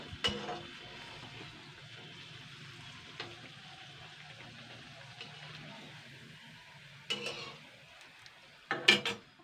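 Biulir dal kachori deep frying in oil, a steady soft sizzle running throughout with occasional clinks of a utensil and a couple of sharper clatters near the end, no talking.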